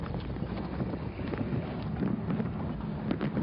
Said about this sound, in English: it's nice when that cool wind hits you